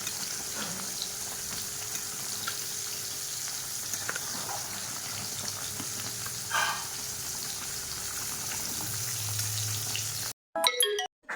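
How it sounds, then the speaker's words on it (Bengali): Beguni, eggplant fritters, frying in hot oil in a home kitchen, giving a steady, fairly loud sizzle with occasional louder pops and stirs before the sound cuts off abruptly near the end. "এই যে এখানে বেগুনি ভাজছি"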